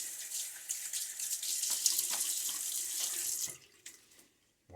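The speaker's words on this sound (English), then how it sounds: "Let's shave with that. Get my face wet." Water from a bathroom tap gushes steadily into a sink before shaving, then cuts off near the end, leaving brief drips and quiet.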